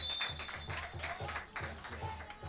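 Applause from a crowd at a third-tier football match between CSM Focșani and Oțelul Galați, greeting substituted players; steady far-off clapping with a pulsing low thump beneath it, continuous through the whole stretch.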